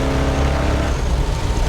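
A 1963 Ford Galaxie 500 with a manual-brake setup pulls hard through third gear, its engine roaring loudly and continuously close by, while someone talks over it.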